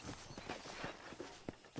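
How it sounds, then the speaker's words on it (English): Horse hooves clip-clop at a quick, steady walking pace while riding in Red Dead Redemption, heard as close rhythmic thuds over a constant game background. "let's see if you can still ride a horse"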